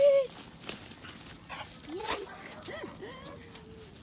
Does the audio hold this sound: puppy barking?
yes